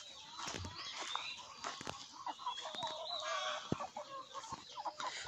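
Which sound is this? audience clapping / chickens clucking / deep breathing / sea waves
chickens clucking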